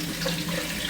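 Kitchen tap water pours steadily into a measuring cup for bread dough, a constant hissing splash at moderate level with no talking.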